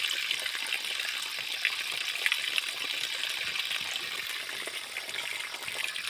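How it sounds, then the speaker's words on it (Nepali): Cold water flows in a continuous, even rush as someone drinks from it outdoors. It stays close and steady throughout, with no speech. "त्यही भएर अब म पानी खाँदैछु।"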